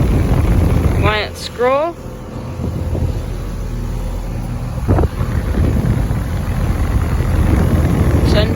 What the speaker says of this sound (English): So here we have 4 Trane XLIs running in cool mode right now.